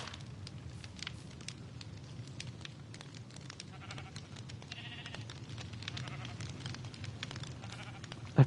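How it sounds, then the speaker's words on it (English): A sheep bleats in the video game Minecraft, faint and brief among quiet ambient game noise, with occasional soft crackles and no talk. "That poor sheep."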